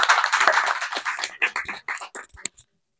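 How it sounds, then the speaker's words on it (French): Audience applause at a French talk show: dense, brisk clapping that thins into a few scattered claps and stops after about two and a half seconds, leaving silence. "ouais, moi j'applaudis, bravo"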